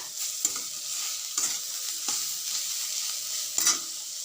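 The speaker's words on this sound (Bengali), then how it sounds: "এখানে শাক ভাজা হচ্ছে কলমি শাকের ভাজা" Water spinach (kolmi greens) fries in a pan with a steady bright sizzle, broken by a few scraping stirs of a spatula at intervals.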